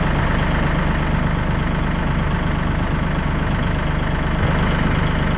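Massey Ferguson 1E.40 compact tractor engine idling, a steady, loud, even diesel rumble with a regular low pulse, heard close up at the steering wheel with no voices.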